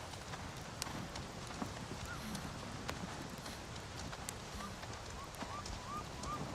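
Hooves of a ridden direhorse clip-clop steadily in a movie scene, a soft rhythmic plodding under a faint ambient bed with occasional sharper knocks and distant animal calls.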